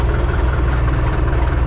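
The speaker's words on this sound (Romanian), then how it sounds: "Lăsați-l să se încălzească. Motorul care e cam rece." A cold mower engine idles to warm up on a spring morning before mowing, putting out a steady low, slightly knocking rumble that runs unbroken and close by.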